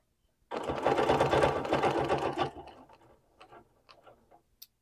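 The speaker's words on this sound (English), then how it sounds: "I'm actually going to stitch in the batting because that's going to give me my needle position." A sewing machine stitches through quilt batting during ruler quilting in one loud, close, steady buzzing run of about two seconds, then slows into a few scattered clicks and taps.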